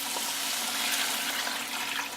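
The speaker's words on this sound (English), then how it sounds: "And in goes 5 cups of water." Five cups of water poured into a soup pot for keto broccoli cheese soup, a steady close splashing rush of liquid that runs for about two seconds without a break.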